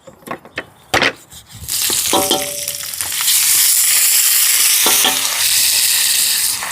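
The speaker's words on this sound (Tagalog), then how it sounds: "Chicken cubes, isasangkutsa ko lang po muna sa patis." Chicken cubes hit a hot pan for tinola and sauté in fish sauce. A few sharp knocks and clatters come first, then a loud, steady sizzle takes over and continues to the end.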